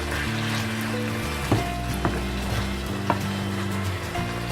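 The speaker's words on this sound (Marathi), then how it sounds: "आता हे छान परतून घ्या" Chicken sukka masala, Malvani style, sizzles steadily in a pan as it sautés with ground masala paste, a close continuous frying hiss with a low hum and a few soft stirring knocks.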